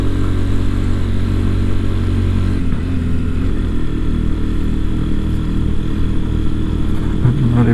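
A Honda Hornet 2.0 motorcycle is ridden along winding hilly roads in Bandarban, its engine droning steadily and close up with wind rush and a brief shift in pitch partway through.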